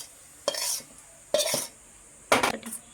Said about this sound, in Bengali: দিয়ে এটা এবার আমি ভালোভাবে ডিমটার সঙ্গে মিশিয়ে নেব